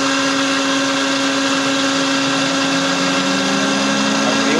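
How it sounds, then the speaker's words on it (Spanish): A cooling fan on a FIAC New Silver air compressor runs with a steady, loud mechanical whir and a constant tonal hum throughout, with no talking. "Y activó el ventilador."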